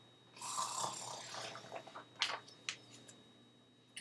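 A voice imitates a bear snoring during a reading of a children's story, one drawn-out rasping inhale followed by a few short snuffling puffs, close and fairly quiet.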